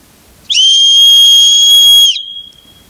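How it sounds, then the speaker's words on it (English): A safety whistle clipped to a bag strap gives one loud, steady, shrill blast lasting about a second and a half, alone in a quiet room. "Your bag strap could have a whistle on it."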